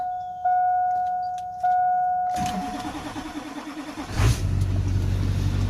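A Duramax LB7 diesel truck cranks and fires up after an injector replacement, with a brief key-turn and chime before the engine catches. It then settles into a loud, steady, close diesel idle with a rhythmic knock.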